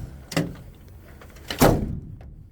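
The door of a 2006 dump truck is pushed shut twice, a lighter knock followed by a heavier, fuller thunk, close by and with no voices.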